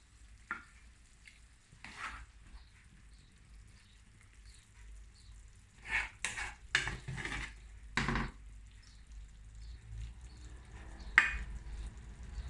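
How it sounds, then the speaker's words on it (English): White rice tipped into a pan of yellow squash and shrimp, with faint sizzling under a run of scattered scrapes, clinks and stirring knocks from the pan and utensils. "So now we're going to just add this. Some white rice."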